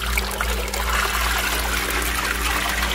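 A brushless watermaker boost pump runs submerged in water, giving a steady close loud hum and low drone under a continuous rushing trickle of water.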